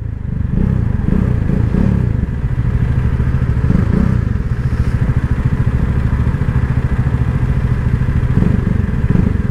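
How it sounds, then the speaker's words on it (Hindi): KTM RC390, Bajaj Dominar 400 and TVS Apache RR310 motorcycles lined up for a drag race, their engines chugging and burbling together at a low, steady rumble, loud and near, with faint clatter. "राम भाई चला रहे हैं नई वाली RC, शुभम चला रहे हैं डोमिनार, एंड कौशिक चला रहे हैं आपकी RR 310"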